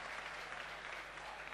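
A home crowd at a Counter-Strike: Global Offensive esports semifinal on Inferno at DreamHack Winter 2013 gives a dense, steady burst of applause that fills the whole moment at even volume.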